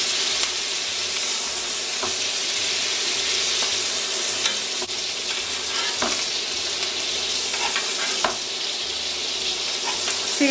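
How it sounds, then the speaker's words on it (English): Hot butter sizzles and spits steadily in a cast iron skillet as a filet mignon is basted, a loud, continuous frying hiss broken by occasional soft clicks of a utensil. "See how we're just kind of basting it with butter?"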